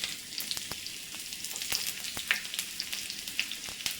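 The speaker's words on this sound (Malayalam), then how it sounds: "ഈ സമയത്ത് നമുക്ക് ഉള്ളി അരിഞ്ഞു വെച്ചിരിക്കുന്നത് ഇട്ട് കൊടുക്കാം." Chopped onions go into hot oil after mustard seeds have popped, for a Kerala raw banana ozhichucurry. They sizzle in a steady, close crackling hiss with sharp pops scattered throughout and no voices.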